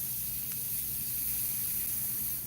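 An Iwata CM-SB airbrush sprays Createx Illustration Colors paint onto Claybord, giving a steady, close, even hiss of air that runs continuously without a break.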